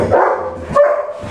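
A dog with fear aggression in a kennel gives a couple of loud, close barks and yips in quick succession, with no talking over them.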